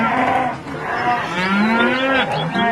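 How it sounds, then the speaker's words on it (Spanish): Calves separated from their mothers bawl loudly nearby, one drawn-out wavering moo after another with rising and falling pitch, filling the clip almost without pause. "el desamparo de los becerros resuena por toda la comarca"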